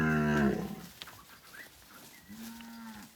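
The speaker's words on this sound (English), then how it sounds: "Time to move these cows." A cow gives a deep, drawn-out moo close by in a pasture, followed after a pause by a fainter, shorter low call, with quiet farm background between.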